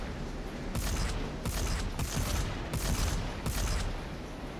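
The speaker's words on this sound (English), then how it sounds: "The turrets are really bad at leading their shots." Turrets in the game Volcanoids fire in repeated loud bursts, four or five evenly spaced volleys of rapid shots with a mechanical clatter and short pauses between them.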